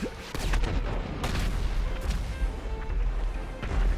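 Missiles fire and explode in the GTA roleplay game, a dense continuous barrage of loud booms and crackling blasts with several sharp impacts rolling over a heavy low rumble throughout.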